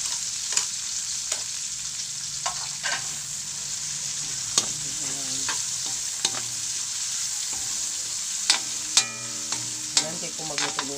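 Tomato and ginger sautéing in a home pan for a Filipino ginisa dish, with a steady close sizzle throughout and sharp clicks and scrapes of a spoon stirring, a few louder clatters near the end.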